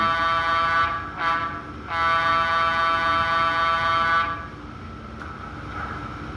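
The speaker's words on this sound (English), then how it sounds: "if we press F3 and F9, we get the horn" A model horn on a Westside Model Co GS-4 Southern Pacific #4450 locomotive sounds in two sustained, harmonically rich blasts, a short one then a longer one, loud and close, with no talk.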